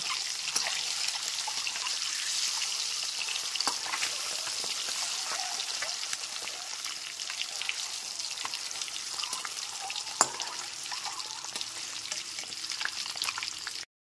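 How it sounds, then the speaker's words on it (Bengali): Eggs fry steadily in hot oil in a pan over a medium-to-high gas flame for a spicy Bengali egg kosha, a dense continuous sizzle and crackle heard close up with an occasional pop and no talking. "গ্যাসের ফ্লেমটা মিডিয়াম টু হাইতে করে দিয়ে সমস্ত ডিমগুলোকে একটু সময় নিয়ে ভেজে নেব"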